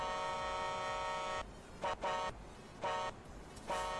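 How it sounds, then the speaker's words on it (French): A loud, sustained Volvo FMX tipper truck horn blast in Euro Truck Simulator 2, then several shorter honks in an uneven pattern, each a harsh buzzy tone over low rumbling engine noise. "Ah, le klaxon, il est bien fait"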